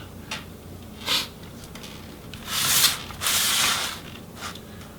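Small screw being removed from the Wi-Fi card inside an MSI Titan Pro GT73VR laptop: brief scratchy clicks and two longer rasping turns of a screwdriver, close and quiet, with no speech.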